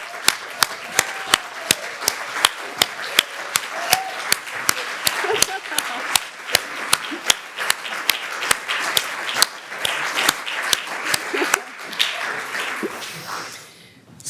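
An audience at an education summit's opening plenary applauds for an honoured guest, with dense, sustained clapping and sharp individual claps standing out nearby, voices murmuring underneath before it fades.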